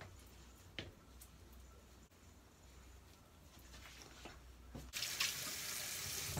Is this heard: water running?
yes